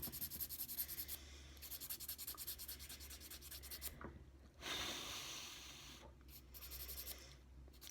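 A nail file rubs back and forth over gel nail wraps in quick, repetitive scratchy strokes, close and fairly quiet, briefly pausing before the rasping resumes.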